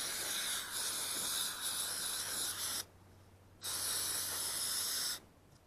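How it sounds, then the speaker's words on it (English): Brake cleaner sprays onto a wiper motor from a 1990-1997 Lincoln Town Car in two sustained, close, hissing blasts separated by a short pause, fairly quiet overall. "now lastly we'll just rinse this all with brake clean"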